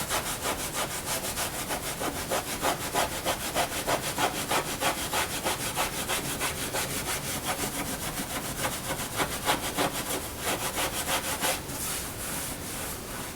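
Steady rhythmic scrubbing against the convex wood of a guitar's archtop, loud and close, with quick back-and-forth strokes continuing for most of the clip before easing off near the end.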